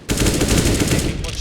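A short, loud burst of automatic gunfire in a video game match, the shots fired so fast they run together into one continuous rattle, heard alone for about a second.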